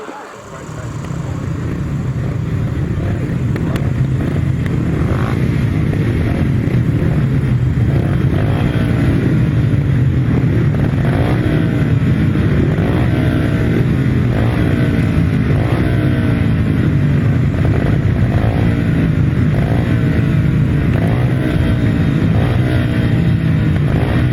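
500cc solo grasstrack motorcycles roar continuously at a race meeting, with engines droning and rising and falling in repeated revving surges as the machines lap the track, loud and near throughout.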